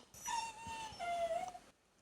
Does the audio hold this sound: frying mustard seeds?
no